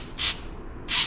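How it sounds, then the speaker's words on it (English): Carburetor cleaner sprayed through a jet of a Kawasaki KFX50 ATV carburetor gives two short, close hissing bursts separated by a brief quiet gap, with no talking. "we're going to spray some carburetor cleaner through there."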